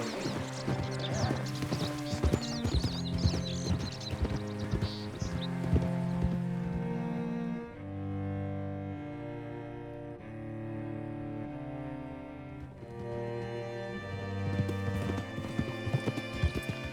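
Rhythmic horse hooves clip-clop steadily beneath a swelling musical score in a Red Dead Redemption 2 game scene, with no speech.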